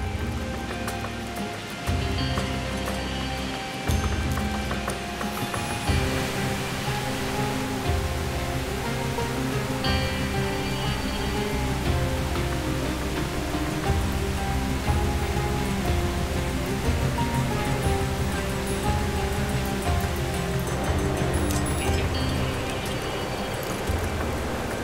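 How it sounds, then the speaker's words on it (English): Powerful rushing water in Greenland roars as a loud, dense, unbroken wash of noise that holds steady and close for the whole stretch, with no voices. "The force of the water is incredible."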